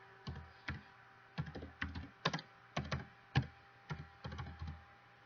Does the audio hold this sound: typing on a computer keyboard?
yes